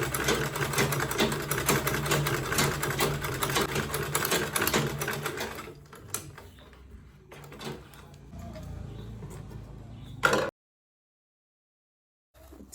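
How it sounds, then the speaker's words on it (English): A sewing machine stitches an Ankara fabric and leather bowler bag in a fast, steady run, slows and stops, then gives a short final burst before silence. "You back stitch first, then you sew and put it down, back stitch"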